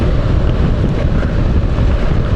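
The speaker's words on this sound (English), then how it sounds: "So it's quite windy." Loud, steady wind roar buffeting an LS2 motorcycle helmet with a visor that doesn't close, riding a Honda NC750X DCT at speed, constant low rumble with no gaps.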